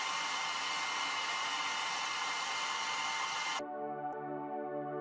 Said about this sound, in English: Apply heat to evaporate the solvent.